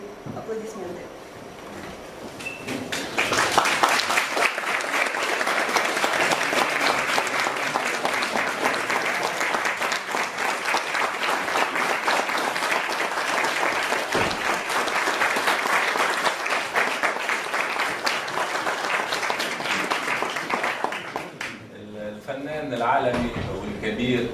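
Audience at an evening reception at the Embassy of Tunisia in Moscow applauds pianist Yuri Rozum, loud sustained clapping from a crowd lasting about eighteen seconds before fading, with talk before and after.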